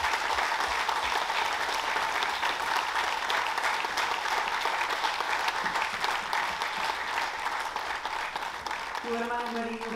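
A packed square's audience gives warm, sustained applause for a singer at a tribute evening of cantigas ao desafio, a thick, even roar of clapping that runs on unbroken, with voices mixed in underneath.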